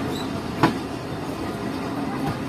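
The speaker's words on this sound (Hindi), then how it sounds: "तकरीबन 2 मिनट रुकने के बाद ट्रेन निकल रही है cadet college Petaro railway station से" The Mohenjo Daro Express pulls out of the small Cadet College Petaro railway station, a steady low rumble of rolling carriages with one brief clank partway through, heard from on board.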